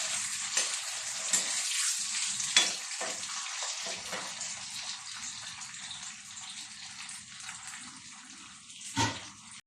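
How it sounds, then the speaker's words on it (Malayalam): Cashews and raisins fry in ghee for payasam, a bright continuous sizzle with occasional clinks and scrapes of stirring, close up and unaccompanied by voices. "നമ്മൾ അണ്ടിപ്പരിപ്പും മുന്തിരിങ്ങയും ഇങ്ങനെ മൂത്തിങ്ങനെ വന്നിട്ടുണ്ട്."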